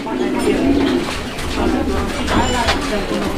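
Pigeons coo in low, soft, rolling calls that continue steadily throughout, close by, with a busy background of rustling and other bird noise.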